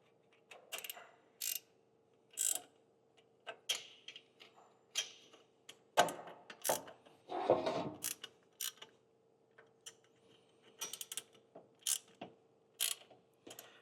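A ratchet wrench clicks in short bursts as bolts are tightened on a Harley Sportster bracket, close and crisp, with pauses and a few heavier metallic knocks between the ratcheting runs.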